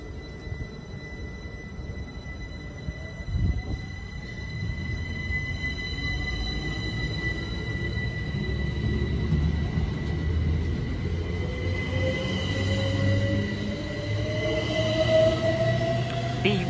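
A Great Western Railway class 387 electric train from London Paddington to Didcot Parkway departs Goring & Streatley station, a steady loud rumble with a rising whine, growing across the clip.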